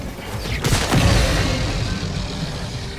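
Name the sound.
thermite grenades exploding, Helldivers 2 video game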